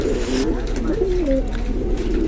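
Pigeons cooing close by in a steady sequence of soft, rolling, throaty calls over a constant low background hum, with no talking.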